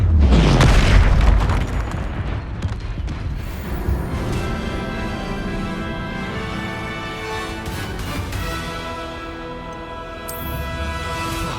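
Loud booming explosion from the Confringo blasting spell in Hogwarts Legacy, a heavy low blast that fades into a long rumbling, crackling tail with debris and magical shimmer.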